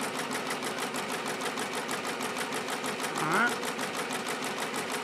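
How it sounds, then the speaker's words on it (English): An MT-1501 embroidery machine stitches rapidly with a fast, even mechanical ticking that runs steadily throughout at close range, and a voice speaks briefly over it partway through. "I'm going to start embroidering right away."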